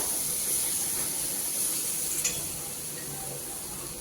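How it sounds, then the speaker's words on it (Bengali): Two bay leaves added to well-fried spices sizzling in a pan, a steady close hiss of hot oil with one brief sharp crackle midway. "মশলা খুব ভালোভাবে কষিয়ে নিয়েছি এবারে দিয়ে দিচ্ছি দুটো তেজপাতা"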